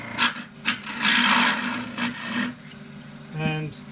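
A turning tool scrapes against a wooden bowl spinning on a lathe, giving rough, rasping cuts that swell and fade in short passes, with a brief voice near the end.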